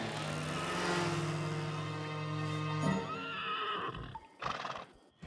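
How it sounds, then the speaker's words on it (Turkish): In a My Little Pony cartoon, a headless horse lets out a loud, drawn-out neigh with a quavering whinny, followed by snorts and hoof clip-clops as the sound fades. "Bu kafasız atın kişnemesi."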